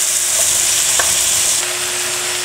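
Vegetables drop into a pan of chicken frying for cheese dak-galbi, with a steady, gentle sizzle, a light clatter as they go in, and soft stirring close by.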